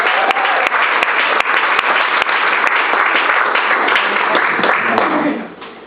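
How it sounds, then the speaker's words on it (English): A comedy club audience at the Pasadena Ice House claps and cheers in sustained, loud applause that holds steady for several seconds before tapering off at the end. "Let's have a big round of applause for your MC tonight,"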